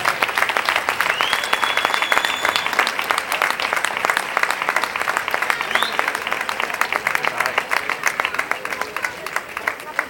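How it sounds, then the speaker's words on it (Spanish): Loud, sustained audience applause at a youth pageant presentation of damas and reinas, dense rhythmic clapping from a large crowd with a brief whistle and murmured voices underneath. "Fuerte aplauso para Alba María Moreno Carvajal"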